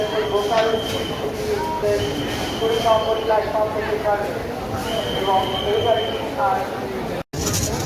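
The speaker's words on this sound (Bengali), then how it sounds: "ট্রেন ঢুকে গেছে, প্রচণ্ড ভিড়।" The 12837 Howrah–Puri Superfast Express rolls in alongside a noisy crowded platform, with rumbling wheels, a high squeal and people talking loudly throughout.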